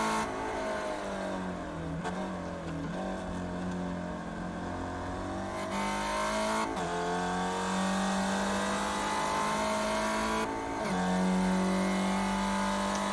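Spec Racer Ford race car engine heard from the cockpit during a lap of Oulton Park's Island layout in iRacing, droning steadily and rising in pitch through each gear, with several brief dips at upshifts.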